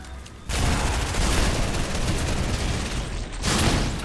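Gunfire in the video game Fortnite, a dense loud burst of rapid shots lasting a few seconds, a short gap, then another close volley.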